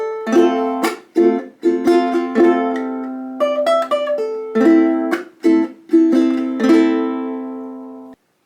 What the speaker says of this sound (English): The iconic mandolin riff sounds like this.